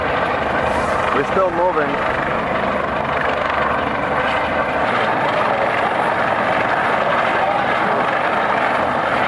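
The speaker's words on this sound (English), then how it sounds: "Coast Guard helicopter rescue in the middle of the ocean from Carnival Sensation ship." Coast Guard helicopter circling over the open ocean near a Carnival Sensation cruise ship, a steady loud rotor and engine drone under wind, with a person talking briefly near the start.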